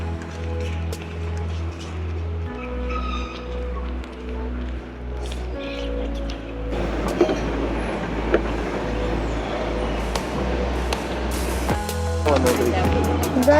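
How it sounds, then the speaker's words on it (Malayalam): A Qatar tram pulling into a station near Oxygen Park, its low motor hum and rolling noise swelling as it draws close, with a person speaking over the approach. "ഒരു ട്രാം വന്നുകൊണ്ടിരിക്കുന്നുണ്ട്."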